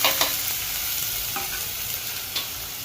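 Chopped onions sizzling in a hot pan, a steady frying hiss with a few sharp crackles and stirring clicks.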